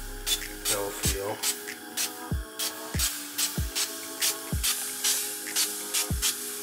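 Frite cooking oil spray is pumped into a pan heating on the stove, giving a quick series of short, sharp spritzing bursts at a roughly even pace, each bright hiss cutting off cleanly.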